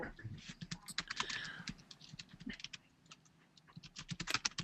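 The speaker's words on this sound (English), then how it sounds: "Can you guys see who the heck is typing?" Rapid, uneven keystrokes clatter on a computer keyboard, close and fairly loud, with a short lull midway before the tapping resumes in quick bursts; no voices.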